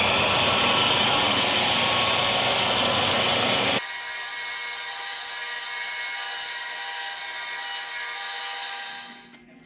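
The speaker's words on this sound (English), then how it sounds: "I take the thicker end and kind of hold it against this and kind of bevel the ends" Longbow limb ends being beveled against a jig, a loud steady whirring and grinding for about four seconds that drops to a quieter continuous machine hum, then fades out near the end.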